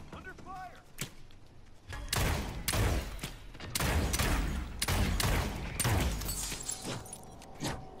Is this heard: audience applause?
no